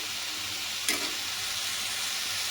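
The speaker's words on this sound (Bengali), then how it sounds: "জল দিয়ে সামান্য পরিমাণ জল দিয়ে মশলাটার সঙ্গে আলুটা আর একটু কষাবো" Steady, close frying sizzle of potatoes and spices in a pan with a little water, constant crackling hiss throughout, one brief stir or clatter near the start.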